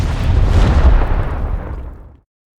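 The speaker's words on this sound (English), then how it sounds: "Throwing a grenade." A grenade blast in the video game Gears Tactics: a loud, heavy explosion that roars immediately and rumbles for about two seconds before cutting off to silence.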